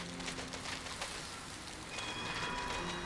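Steady rain falling in the video game Sky: Children of the Light, a constant soft hiss of drops on surfaces with no talk, running evenly throughout.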